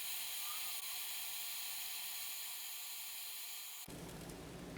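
Silver being melted down makes a steady loud hiss, most likely a torch flame, that holds constant and then shifts abruptly near the end.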